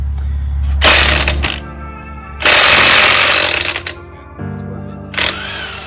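A Harbor Freight Bauer heavy duty 1/2-inch impact wrench removing car lug nuts fires off three loud, close bursts of rapid hammering, with quieter pauses and a softer motor hum between them.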